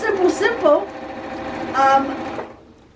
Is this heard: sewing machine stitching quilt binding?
yes